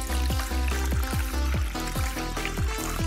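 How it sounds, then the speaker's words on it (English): A soda and gelatin mixture is poured into a plastic bottle in a steady stream, with a run of repeated glugging gurgles close by and no talking. "Then it's time to pour the mixture into the bottle."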